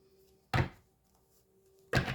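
Tarot cards are shuffled in two short, separate bursts, each a quick papery slap and rustle close by, with quiet pauses around them.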